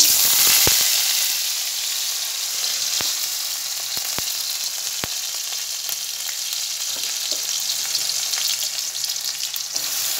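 Potatoes frying in a pan for chira pulao, a loud, close, continuous sizzle with a few sharp pops and crackles scattered through, and no talking.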